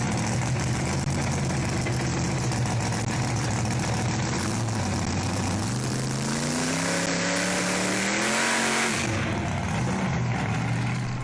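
A supercharged, street-legal Gremlin built like a funny car roars loud and continuous through 4-inch side pipes, its engine pitch swinging up and back down in a rev before settling into a heavy idle.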